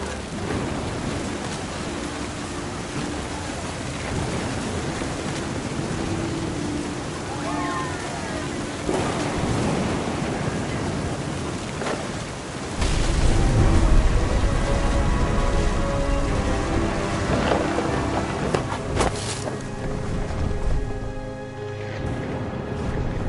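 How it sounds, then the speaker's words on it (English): Steady rain and storm noise fill a scene in the video game What Remains of Edith Finch, with rumbling swells like thunder and wind, heard continuously at moderate loudness. "The thunder sounded much too close and full of angry power."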